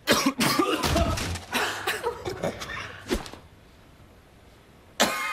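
A person coughs several times in quick succession, loud and close, followed by quiet and then one more sharp cough, as in a cold-medicine commercial.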